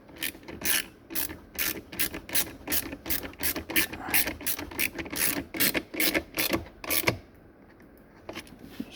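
A socket ratchet clicks while working on the rear air-conditioning louvre trim of a VW Tiguan, a close series of quick rhythmic ratcheting bursts that stops near the end, followed by a few faint clicks.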